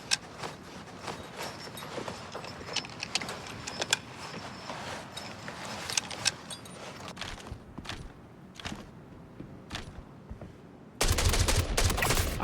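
Rapid bursts of gunfire in the game Star Citizen crackle through a dark firefight, with sharp overlapping shots, a few quieter gaps, and a louder sustained barrage near the end.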